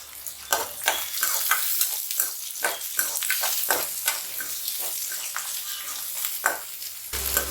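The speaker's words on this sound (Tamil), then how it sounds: "நல்லா வதங்கட்டும்." Small onions sizzling and frying in a pan for a brinjal fry, a steady crackling hiss broken by repeated stirring scrapes, close and loud with no talking.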